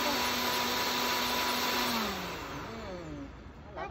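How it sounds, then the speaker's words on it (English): A blender whirs loudly while pureeing a spinach green smoothie, its motor pitch sliding downward as it works, steady and close with no talking. "you really do need a decent blender to grind it all up"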